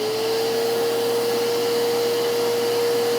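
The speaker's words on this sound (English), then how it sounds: "Now let's compare that to our StealthSonic." A RIDGID shop vacuum runs at a steady pitch, a loud close whine over a constant airy roar with no change in speed and no voices.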